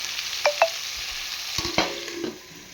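Capsicum and potato curry cooking in a pan, a soft steady sizzle with a few clinks and scrapes of a spoon stirring against the pan, close and fairly quiet.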